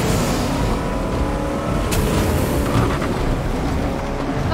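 A car in a video game roars along with loud, rough engine and road noise that stays constant, with faint crackles and bumps in the background.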